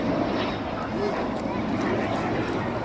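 L-159A ALCA jet making a slow pass with undercarriage down at an air day, a steady broad roar of engine noise heard throughout, with commentary spoken over it.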